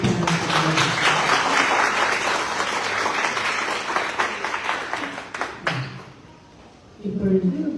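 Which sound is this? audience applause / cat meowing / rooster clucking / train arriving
audience applause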